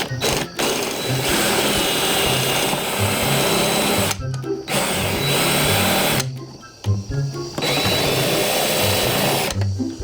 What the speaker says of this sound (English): start drilling more.